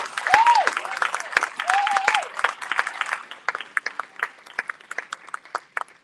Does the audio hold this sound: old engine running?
no